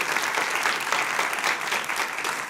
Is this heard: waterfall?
no